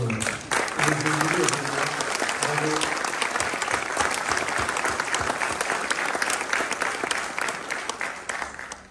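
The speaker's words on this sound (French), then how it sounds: "J'en profite pour vous demander de vous applaudir et d'applaudir" Audience applause at a mayor's New Year wishes ceremony, a full, sustained wash of many hands clapping that stays loud and steady before tapering slightly, with a few voices briefly audible near the start.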